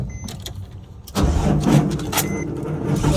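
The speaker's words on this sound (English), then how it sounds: "Let's crank it up so you can hear it." A Porsche 996 GT3 track car with a Mezger 3.6 flat-six cranks on a weak battery, an abrupt loud starter churn kicking in after a quiet moment and continuing close by without catching.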